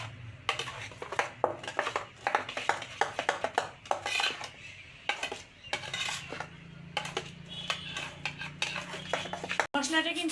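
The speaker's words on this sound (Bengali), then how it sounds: "দিয়ে এখন আমি মিক্সড করব।" Mustard paste masala is mixed with soybean oil in a bowl, a rapid run of close metallic scrapes and clinks from a spoon against the bowl, irregular and busy throughout.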